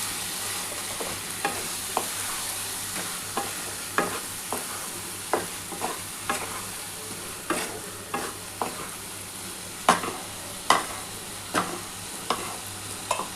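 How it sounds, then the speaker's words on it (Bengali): Potatoes are sautéed with spice paste in a pan under a soft continuous sizzle, broken by regular sharp scrapes and knocks of a spoon stirring, close by and with no voices. "ভালো করে এই মশলাটার সাথে কিন্তু আলুটা কষাতে হবে।"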